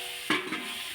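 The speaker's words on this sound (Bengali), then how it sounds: "ভালোভাবে বন্ধুরা একদম লো ফ্লেমে কুমড়োগুলোকে ভালোভাবে ভেজে নেব।" Cut pumpkin and potato frying in fish-frying oil with dried red chilli and black cumin over a low flame, giving a steady soft sizzle with a sharp stir-scrape burst near the start and a second, smaller one shortly after.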